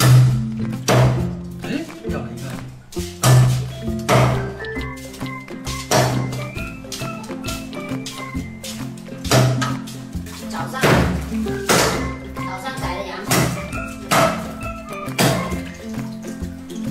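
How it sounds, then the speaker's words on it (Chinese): A cleaver chops through lamb trotters in a kitchen, giving repeated heavy, sharp thunks in an irregular rhythm with strong transients, loud and close, while a person talks between the strokes. "现在呢，开始砍羊蹄。"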